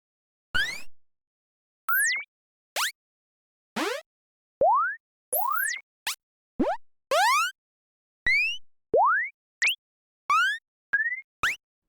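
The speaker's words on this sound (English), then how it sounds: "You'll see that each time I click the button, it generates a different jump sound." Synthesized retro game jump effects, a dozen separate bright boing-like pitch sweeps, mostly rising, spaced about a second apart with silence between, each one different in tone and length.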